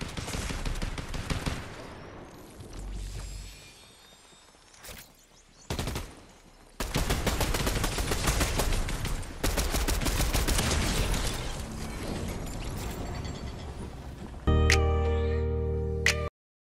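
Rapid video-game gunfire crackles in sustained dense bursts broken by short pauses, ending with a louder mechanical clunk and ringing tone.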